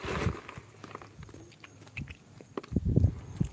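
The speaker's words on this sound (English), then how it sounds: "I'm just chewing in your ear." Popcorn chewed right against the microphone, with close wet crunches and biting clicks in irregular bursts, growing louder and denser toward the end, with no talking over it.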